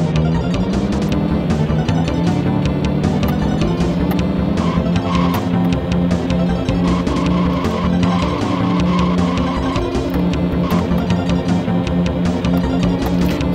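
Racing cars in the SNES game Top Gear on a Copenhagen course, with a continuous, loud synthesized engine drone and tire-skid noise that runs unbroken throughout and has no talk over it.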